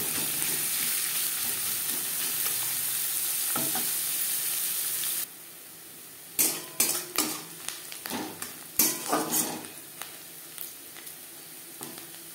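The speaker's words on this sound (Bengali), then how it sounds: "পেঁয়াজ ভাজা হয়ে গেছে" Onion frying in oil in a pan while making spicy semolina, a steady loud sizzle that suddenly drops away, followed by scraping and clinking spatula stirs against the pan.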